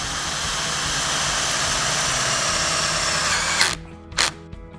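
Power screwdriver driving a provided screw through a hollow-profile Westbury Riviera railing bottom rail support, a steady loud whir running nearly four seconds, then cutting off with two brief bursts.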